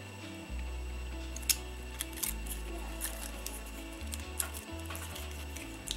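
A utility knife trims the edges of a silicone mold with faint, scattered snipping clicks over a steady low background tone and no speech.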